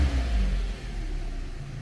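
A Hyundai Elantra 2.0 engine with a failing catalytic converter gives a quick rev that swells and then falls back toward idle, a short low rumble heard close with no talking.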